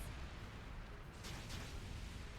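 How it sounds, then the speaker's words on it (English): Cannon fire in the video game Ys X: Nordics, a steady low rumbling roar with a couple of soft bursts near the end, heard alone without speech. "Fire the cannons!"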